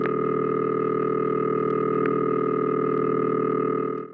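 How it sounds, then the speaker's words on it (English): Telephone ringing from a New York central office, with all three ring phases combined into one dense, steady buzzing tone that drones loudly and evenly throughout, then tapers off slightly at the close. "This is the sound of all three phases of ring combined."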